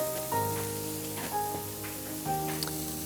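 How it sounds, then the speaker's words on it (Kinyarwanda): Onions fry in a pan while seasoned potatoes are being made at home. A steady, soft sizzle sits under louder background music with sustained tones, and no one speaks. "Ibitunguru byanjye birahiye"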